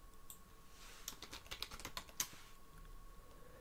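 A computer keyboard being typed on while entering a short text label, a quick run of about a dozen crisp, quiet keystrokes clustered in the middle, alone with no voices.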